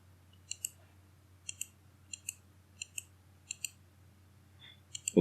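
A computer mouse clicks through the Odoo software interface in crisp, close double clicks, about seven pairs spaced roughly every half second to second against a quiet background, with no talking.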